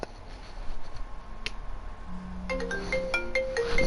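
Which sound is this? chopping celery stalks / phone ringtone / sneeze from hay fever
phone ringtone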